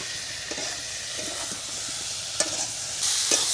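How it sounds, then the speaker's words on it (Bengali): Home-ground dried chilli and other spices fry in a pan for a village-style fish curry. A faint, even sizzle carries a few soft stirring scrapes, and the hiss swells near the end. "দেখুন মশলা ভাজা হয়ে গেছে"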